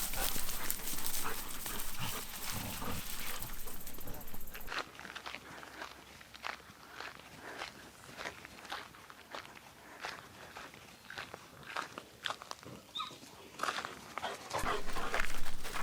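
An elderly ten-year-old large dog pants steadily on a farm in summer heat, with soft chewing and shuffling nearby and a brief burst of louder noise at the start and end.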